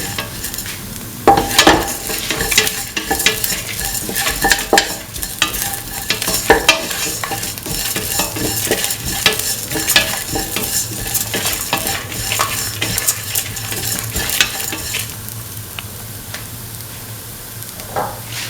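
Potatoes sautéing and being stirred in a pan for coconut milk rice, with steady sizzling frying under repeated scraping and clinking of a utensil against the pan, continuous and close throughout.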